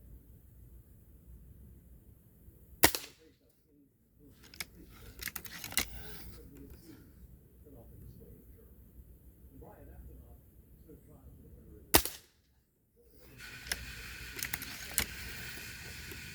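A Gamo .177 Swarm Magnum air rifle fires two sharp, isolated cracks several seconds apart, with quiet handling noise and low background hiss in between.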